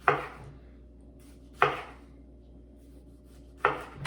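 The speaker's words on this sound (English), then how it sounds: "you're going to want to take the tomato and slice it down" A knife slicing down through a tomato on a cutting board for pico de gallo, three separate sharp cuts spaced about two seconds apart, close and clear with quiet pauses between.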